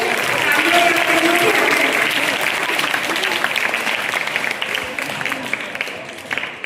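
A school audience at a girls' senior secondary school board ceremony breaks into loud, dense applause that stays strong at first, then thins and tapers toward the end, with a few murmuring voices beneath the clapping.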